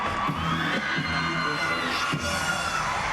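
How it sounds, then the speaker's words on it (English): Gymnastics teammates cheer beside the floor exercise at an NCAA women's Super Six meet, a steady roar of crowd noise with shouts and whoops throughout. "Cheering on and dancing with them"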